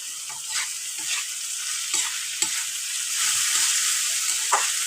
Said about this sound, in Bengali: পেঁয়াজের উপর বন্ধুরা আমি দিয়ে দিলাম 3টে কাঁচা লঙ্কা চেরা।